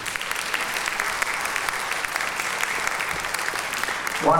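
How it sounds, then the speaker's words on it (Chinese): Sustained applause from a concert audience for a choir conductor at a song festival evening, steady dense clapping filling the hall throughout, with a brief voice or tone entering at the very end. "老师，掌声有请。"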